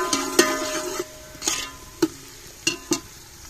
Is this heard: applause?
no